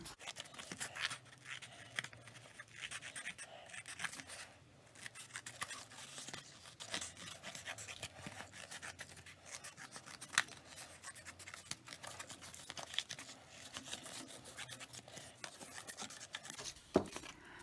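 Steady snipping and rubbing of scissors cutting out a card masquerade mask shape, close up and continuous, with small crisp cuts and no voices.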